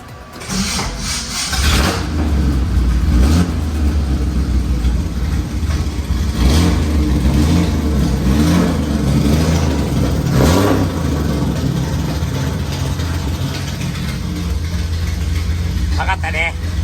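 A Nissan Fairlady Z engine catches and runs with a loud, steady rumble throughout, while people talk over it.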